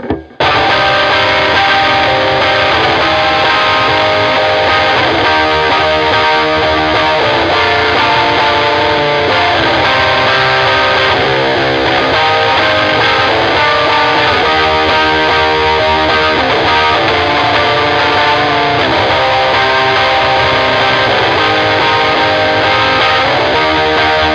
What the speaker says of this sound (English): It's a very normal overdrive sound.